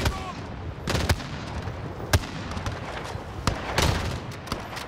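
Gunfire from the Call of Duty Modern Warfare video game, with sharp shots crackling in quick bursts and single reports over a rumbling battle background.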